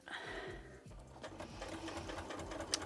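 A sewing machine fitted with a walking foot quilts a jacket with a steady, rapid mechanical chugging, close and clear.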